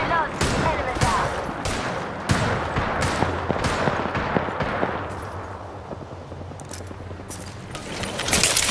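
Gunfire in Apex Legends, with loud, sharp shots landing in a fast irregular run, some bursts cracking close and others dropping back under a rumbling mix, while a voice speaks briefly.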